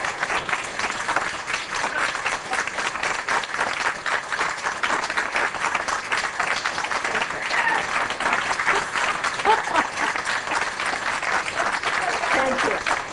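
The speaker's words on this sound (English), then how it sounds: "applause till the end." Steady, dense applause from a large crowd, continuous and loud throughout with no pauses, sustained to the end.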